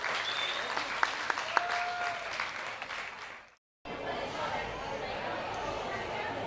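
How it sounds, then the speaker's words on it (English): An audience applauds Esme, a nine-year-old third-place prize winner from Newmilns Primary, at a local festival weekend prize-giving. Steady dense clapping with a few sharp claps rings out, breaks off briefly, then resumes, with faint voices underneath. "Big round of applause."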